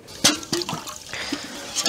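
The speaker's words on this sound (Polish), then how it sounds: "Ja tu wleję wodę i wyleję to na pryzmę obornika." Water poured into a bucket of lime wash while whitewashing cow barn walls, heard as short splashing gushes and sloshes close by, in a few quick bursts.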